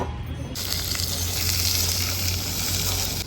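Onions frying in a kadai for duck curry, a dense steady sizzle that swells in just after the start and holds loud and even, with a low hum underneath.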